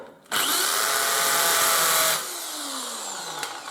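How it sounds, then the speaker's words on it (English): Power drill boring a hole with a water-cooled bit, a loud high whine held steady for about two seconds, then winding down to a quieter spinning tone as the motor slows. "and then drill through that, and it will stop the drill moving all over the place"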